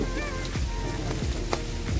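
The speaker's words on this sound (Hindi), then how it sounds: "देखते हैं बारिश कितनी देर रहती है" Summer rain falls in a jungle beside a rock overhang, a steady, close hiss of drops with a few sharper splashes and taps on nearby surfaces, with no talking.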